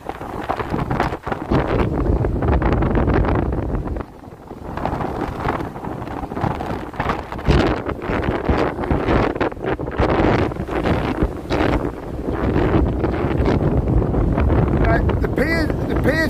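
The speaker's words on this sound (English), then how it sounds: "but it's windy, believe me" Strong gusting wind buffeting the microphone on the Blackpool coast during Storm Ashley, loud, continuous roaring with sharp surges and brief lulls, a voice speaking intermittently underneath.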